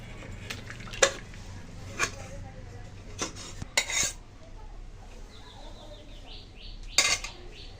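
A cooking pot of rohu fish curry with stalks and potatoes lifted off the stove: scattered metallic clinks and scrapes of pot and utensils, close and fairly quiet, with a short faint squeak partway through.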